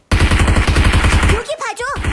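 Rapid automatic gunfire in a shooter video game, a loud fast rhythmic burst of shots lasting most of the moment, briefly broken by a voice before firing resumes.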